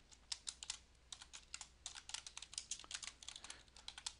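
Fast typing on a computer keyboard, close and quiet, with rapid uneven bursts of key clicks and short pauses, without talk.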